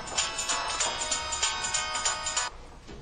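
A phone ringtone plays a bright repeating melody at a steady rhythm for a few seconds, then cuts off abruptly, leaving faint background noise.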